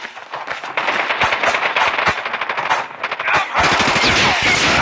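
Dense, loud automatic gunfire from a Call of Duty match, rapid bursts of shots rattling close by with brief gaps between volleys.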